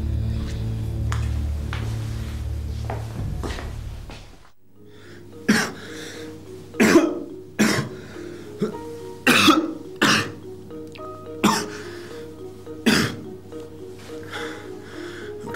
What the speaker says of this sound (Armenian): Արդեն այնքան եմ հազում, շունչս կտրվում է։